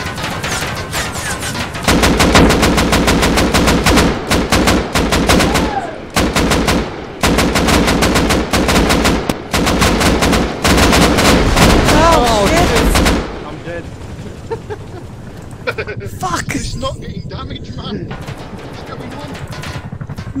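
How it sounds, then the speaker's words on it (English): An attack helicopter in the survival game Rust fires rockets and unleashes long, dense bursts of rapid machine-gun fire, loud and close for about eleven seconds. Then the firing stops and quieter background sound with faint voices remains. "Why is it shooting rockets?"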